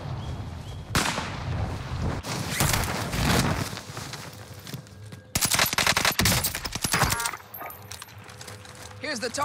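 Gunfire from another player in Call of Duty Warzone, Vanguard era: loud automatic bursts and rapid volleys crackling in several stretches, close and sharp, with a voice talking in between.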